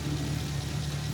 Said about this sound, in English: the engine sounded like this